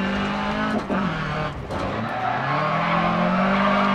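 Rally cars racing in Dirt Rally rallycross, engines droning loudly and continuously with shifting pitch and a brief tire skid, steady and close throughout.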